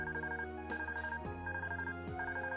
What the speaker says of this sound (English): That is an orbital phone.